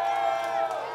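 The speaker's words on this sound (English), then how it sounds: "The crowd's chanting for more of the power glove." A wrestling crowd at a live championship show roars steadily in a dense, loud wash of cheering and chanting that fills the whole second without a break.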